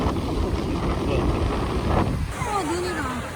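Strong seaside wind roars and buffets the microphone on a Jeju coast, a constant loud rumble with a brief lull near the end.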